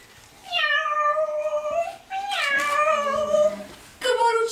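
A human voice imitates a cat, giving a series of drawn-out, wavering meows, three separate calls, close and clear against a quiet background.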